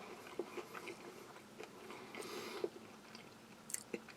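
Honey mustard pretzel nuggets from a US Army MRE are chewed close to the mouth, giving faint irregular crunches and soft munching in a quiet room with no talking.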